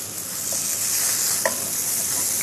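Salmon tikka sizzles in a hot pan with a steady bright frying hiss throughout, broken by a couple of small pops, close and alone with no voices.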